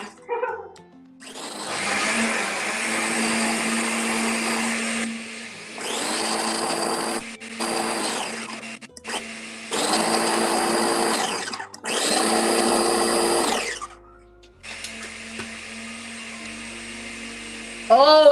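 Smoothie blender blending cauliflower in a home kitchen, running in several loud bursts with short pauses between, a steady whirring motor roar that shifts pitch as the mix thickens, with brief talk in the gaps.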